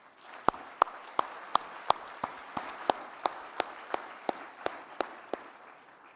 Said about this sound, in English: Let us give all of them a round of applause.